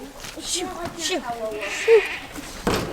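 Goat bleating on a small farm, a few short wavering cries in quick succession under and between people talking nearby, at moderate loudness.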